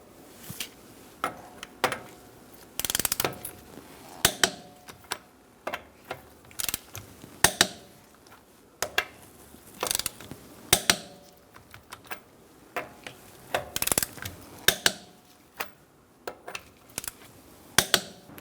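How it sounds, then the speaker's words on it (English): A torque wrench with a 19mm socket tightens the wheel nuts on a 2012-2018 Ford Focus to 100 foot-pounds in a star pattern. Close, sharp mechanical clicks and ratcheting snaps come in irregular clusters over a quiet background. "Using a 19mm socket, we're going to torque our wheels to 100 foot-pounds."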